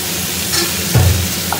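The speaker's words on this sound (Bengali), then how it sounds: "সবজি এটা পেঁপেগুলো ভেজে নেওয়া হচ্ছে" Papaya pieces fry with spices in a pan, a brief close sizzle with a stirring scrape near the middle, no voices.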